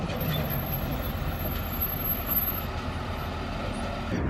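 A tow truck idles at a drag strip. Its engine gives a steady, loud, low rumble with no clear breaks, heard on its own with no talking.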